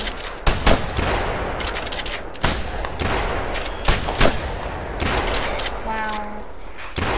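Gunshots in the hunting video game theHunter during a duck hunt: a series of sharp, loud shots spaced irregularly, some in quick pairs, with people chatting over them.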